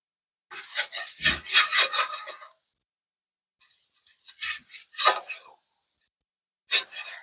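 Utensil scraping and stirring flour paste in a pan for gravy, in a few short rough bursts with gaps between, close up.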